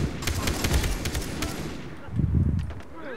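Rapid gunfire rattles in the Far Cry 3 co-op video game, a loud burst of rapid shots with dense, echoing cracks, followed by a heavier thumping volley.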